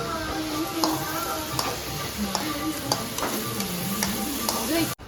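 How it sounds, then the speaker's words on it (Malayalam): Cashews, raisins and coconut pieces frying for a payasam garnish, a steady close sizzle with repeated ladle stirs and light clicks against the pan, ending abruptly. "അതിലേക്ക് നമുക്ക് കാഷ്യും കിസ്മിസും ഒക്കെ തേങ്ങാക്കൊത്തൊക്കെ വറുത്തിടുന്നതാണ്."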